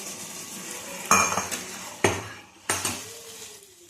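Chili chicken stirred and sautéed in a hot pan: three sharp scraping clatters of a utensil against metal over a steady low sizzle, close and fairly loud, with no talking.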